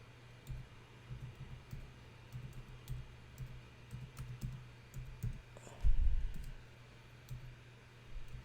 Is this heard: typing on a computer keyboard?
yes